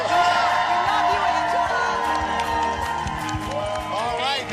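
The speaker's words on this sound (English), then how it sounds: "Everybody, let's give Angela a big round of applause." Studio audience applause and cheering for Angela on a TV morning show, a dense, steady wash of clapping with whoops over a music bed that holds loud throughout and dips slightly near the end.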